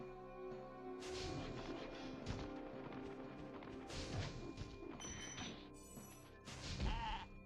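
Sheep bleat repeatedly in the PS1 game Spyro the Dragon, mixed with thuds, whacks and crash effects from the gameplay, all fairly close and prominent.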